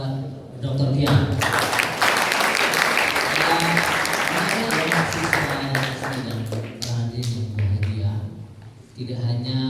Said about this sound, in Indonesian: Tepuk tangan buat Dr. Dian.